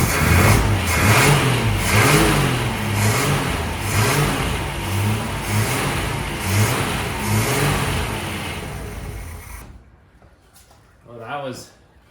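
A 1962 Ford Ranchero under rebuild, engine running and revving in rising and falling surges, loud and close, then cutting off near the end as a voice speaks over the quiet.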